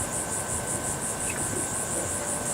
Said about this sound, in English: Don't let this cricket business fool you.